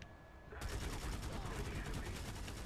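Automatic weapon fire from Planetside 2 on PS4 begins abruptly after a quiet moment, a steady stream of rapid, evenly spaced shots that stays loud and close until the end.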